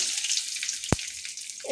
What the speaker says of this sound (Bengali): তেলটা গরম হয়ে গেছে, এবার ফোড়নে দিয়ে দেব কিছুটা সর্ষে।